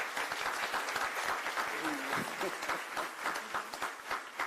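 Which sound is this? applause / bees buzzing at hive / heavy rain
applause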